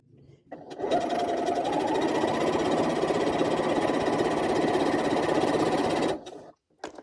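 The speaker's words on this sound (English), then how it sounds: "we are stitching directly on the line this time" A sewing machine stitches a quilt block directly on a marked line, running in one loud, steady, rapid mechanical whir for about five seconds before stopping abruptly, with a short clack at the end.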